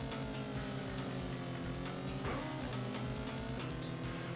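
A motorcycle engine in the 3DO video game Road Rash, a steady droning engine tone with shifting pitch and a brief rising sweep midway, low and continuous, without talk.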